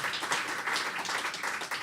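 An audience claps steadily at a government meeting, a dense wash of hand claps with no voices.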